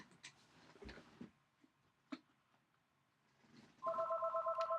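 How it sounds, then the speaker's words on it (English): A landline telephone rings at home, its steady electronic tone starting late and pulsing in a fast warble over quiet room noise after a few faint knocks and thumps. "And the phone is ringing at my house."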